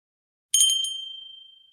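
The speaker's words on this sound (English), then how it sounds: "That's the doorbell example." A single bright doorbell ding rings out in a video game tech demo, a sharp metallic strike that decays slowly with a long, fading ring in silence.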